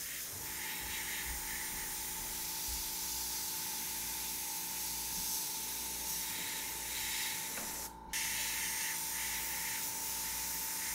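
Airbrush spraying paint through a stencil for a zombie-themed painting: a steady, close, continuous hiss of air and paint mist that runs almost unbroken, with one brief cutoff partway through before the spray resumes.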